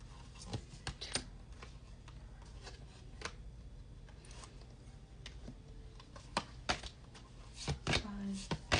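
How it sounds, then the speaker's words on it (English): A deck of spiritual guidance cards being shuffled, with soft irregular flicks and taps close by over a quiet hum. "Let's shuffle."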